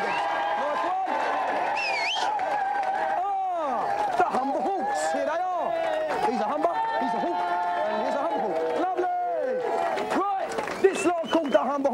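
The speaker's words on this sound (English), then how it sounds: "Give him a big round of applause" A TV game show studio audience claps and cheers for a team, with the applause filling the background while a host and others talk over it throughout.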